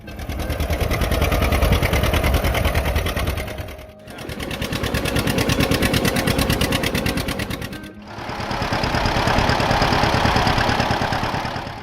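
A John Deere Model B tractor engine, the model introduced in 1935, runs with a fast, steady chugging beat in three long passes, each dipping briefly in level around the four- and eight-second marks.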